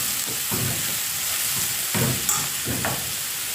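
Carrots and other vegetables frying in a pan for a keema samosa filling, a steady sizzling hiss broken by a few scraping stirs of a spoon.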